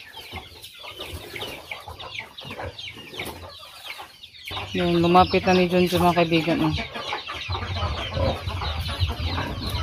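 Backyard chickens cluck in a loud, close run of repeated calls in the middle of the clip, with someone talking over scattered farmyard clucks and noise before and after.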